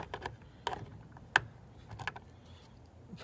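Small screws being driven into the bottom of a Kidcraft toy sink with a hand screwdriver, giving sparse clicking and ratcheting ticks with one sharper click near the middle, close and fairly quiet, with no voices.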